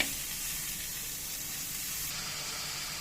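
Onions sautéing in a pan for chicken curry, a steady, even hiss of frying that holds at a moderate level the whole time, with no talking over it.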